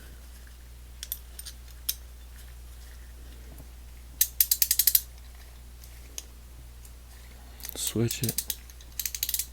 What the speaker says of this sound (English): and it does ratchet